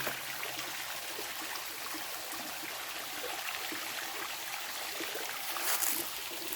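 Continuous rushing water from a small forest waterfall stream, a steady broadband wash without pauses or voices.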